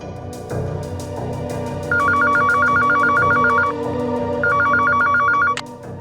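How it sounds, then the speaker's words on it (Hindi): A landline telephone rings in two bursts of rapid trilling tones over a low background hum, loud and nearby. "वो कुशल के मोबाइल से, और अब फोन किया है लैंडलाइन से।"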